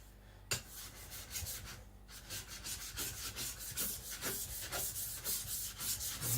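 An IKEA Chinese cleaver is sharpened on a stone with steady, repeated scraping strokes, a close, rhythmic gritty rasp that continues throughout without talk.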